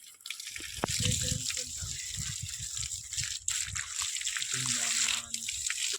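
Steady rushing water runs continuously through a garden, a bright splashing flow with scattered low thumps and clatter underneath.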